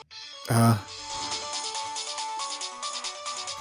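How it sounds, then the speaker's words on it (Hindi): A phone ringing with a melodic ringtone, bright repeated tones carrying on steadily after a brief loud burst, fairly close and alone. "किसी का फोन है शायद।"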